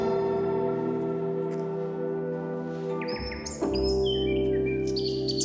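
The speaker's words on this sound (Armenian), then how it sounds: "Ծիտիկների ծվձվոցը, բան ես սիրում։" Small birds chirp over farmland in the early morning. Bright, quick tweets start partway through and sit on top of a steady, tonal musical background.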